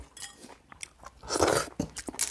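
Close, crunchy chewing of clams eaten with crunchy kimchi: a run of wet bites and crunches with short pauses, loudest in the middle stretch.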